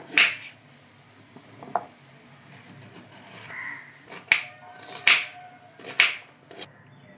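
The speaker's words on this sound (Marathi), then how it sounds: "आता आपण आहे ना त्याचे मोठे पीसेस करूया." A knife cuts peeled carrots into large pieces on a board, with a few sharp, separate chops at uneven intervals over quiet background noise.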